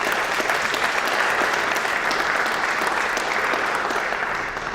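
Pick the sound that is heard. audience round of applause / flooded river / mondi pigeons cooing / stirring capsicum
audience round of applause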